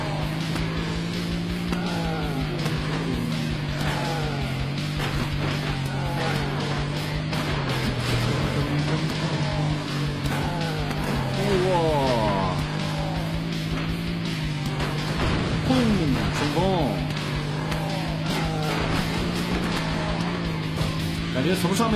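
A police car in a zombie-crashing racing game drives fast, its engine holding a steady loud drone through the whole stretch with brief tire squeals and impact noises layered over continuous game sound.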